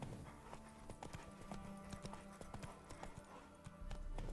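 Roach, a horse in The Witcher 3 video game, gallops in quick rhythmic clip-clop hoofbeats, faint and steady, with game music and ambience beneath.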